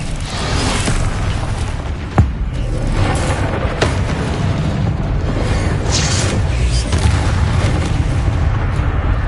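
A fire-blast spell going off in Hogwarts Legacy: a loud, continuous rumbling roar of booming explosive noise with a few sharp cracks, dense and close throughout.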